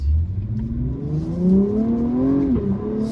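An Acura Type-S car accelerates hard through a corner, its engine note loud and close and climbing steadily in pitch as it pulls, with a brief dip before rising again.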